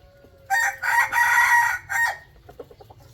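A rooster crows loudly and close, a few drawn-out calls in quick succession, followed by softer clucks and scratching noises from the fowl, with no talk.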